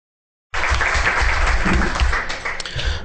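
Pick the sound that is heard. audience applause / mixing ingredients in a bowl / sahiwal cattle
audience applause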